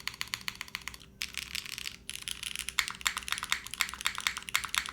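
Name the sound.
mechanical keyboard typing test, Lamy TKL with mods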